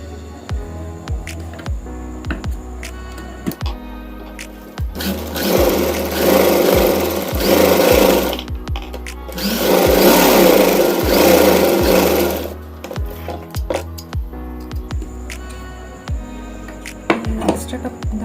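A sewing machine stitches a cloth face mask in two loud, sustained whirring runs of several seconds each, separated and surrounded by quieter mechanical clicks, ticks and a low hum.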